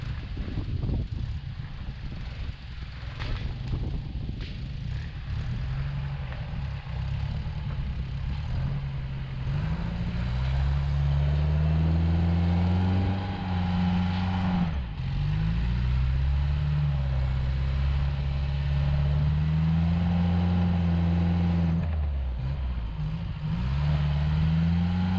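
A Pinzgauer in low range and first gear pulls hard, its engine droning loud and steady with rising and falling labored tones, bogging briefly midway before grinding on under strain.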